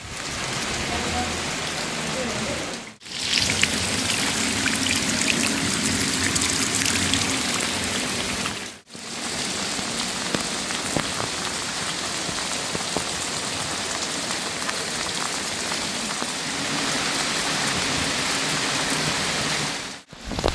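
Heavy rain pours down steadily in a Punjabi village, a loud, dense, continuous hiss of drops drumming on surfaces with only brief dips, close and unbroken for the whole stretch.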